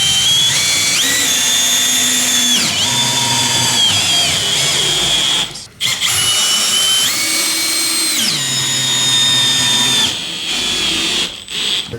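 A power drill drives the bolts of a wall mount for an 85-inch TCL QLED TV, whining loud and close in several long bursts whose pitch rises and falls, with brief pauses between runs.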